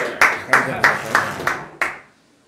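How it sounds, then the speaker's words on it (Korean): Clapping for an interview guest, about six slow, evenly spaced claps, close and crisp, then silence. "우리 경례 박수 한번 쳐드릴게요"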